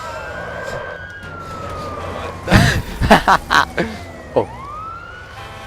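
Fire truck siren in the video game Watch Dogs wails with a rising and falling tone, loud and close, broken by several sharp crash or impact bursts midway; a man briefly exclaims.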